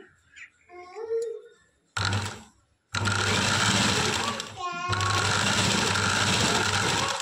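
A sewing machine stitches a design into the middle of a garment's back panel in two long, loud, steady mechanical runs with a brief pause between them, following an opening stretch of talk.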